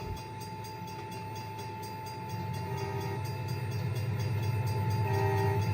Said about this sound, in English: It is an actual sound coming from a bell